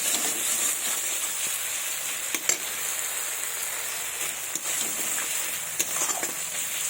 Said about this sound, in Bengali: দেখুন বন্ধুরা, খুব সুন্দর কষানো হচ্ছে মশলাটাকে